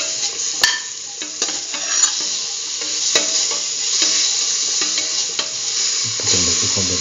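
Potatoes, cucumber and rice frying in a pan with salt are stirred, giving a steady sizzle broken by repeated scraping strokes and clinks of the utensil against the pan.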